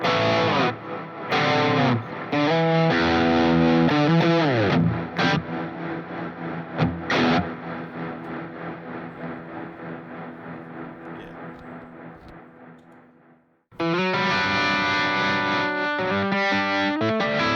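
Electric guitar chords played through a tremolo pedal on a sine-wave setting shaping a reverb, with a Walrus Audio pedal in the chain; sustained chords swell and pulse, fade into a long decaying wash, then a loud strummed passage returns abruptly.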